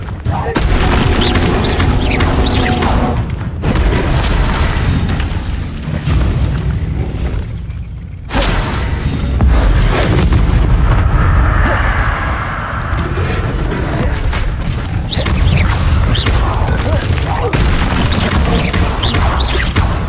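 Confringo blasting spells go off in Hogwarts Legacy combat, loud repeated booming explosions and crashes in a dense continuous battle mix, with shouted voices over them.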